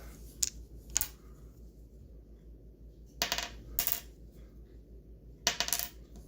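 Batteries clatter onto a hard surface in several separate drops, each giving a sharp metallic click and a short bounce, with quiet pauses between them.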